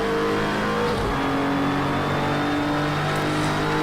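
Audi race car in Project Cars 2 during an online race, its engine droning steadily and loud throughout with a sustained tone and slight pitch shifts, no talk over it.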